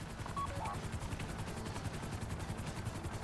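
Helicopter rotors thumping in a rapid, steady rhythm in GTA V Online, a sustained low chop under faint game noise.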